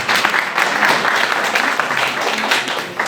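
A crowd of students and listeners at a school career-education talk breaks into brisk, sustained clapping, dense and fairly loud, filling the room for about three seconds.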